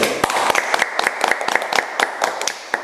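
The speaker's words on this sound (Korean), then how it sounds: "박수 한번 치고 출발할까요?" A small group claps in a scattered, uneven rhythm at the opening of a Korean art talk show, with a dozen or so sharp, distinct claps close by and no voices over them.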